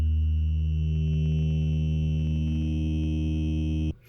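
A steady, buzzy Korg Monologue synth bass drone holds one pitch with a slowly wobbling, vowel-like LFO filter movement giving a talking effect, then stops abruptly near the end.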